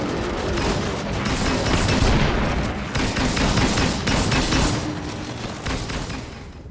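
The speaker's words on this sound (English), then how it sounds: "we're just going to use our mortar strike and fill him full of lead" In the video game Disintegration, a mortar strike and dense gunfire roar together, loud and continuous, with rapid overlapping shots and heavy blasts filling the whole stretch.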